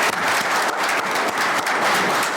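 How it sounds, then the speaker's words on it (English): Sustained applause fills a township board meeting room in Chesterfield, honoring the Anchor Bay Junior ROTC; dense, steady clapping from a sizable crowd, close and loud throughout with no talk over it. "Can I get a round of applause for the Anchor Bay Junior ROTC"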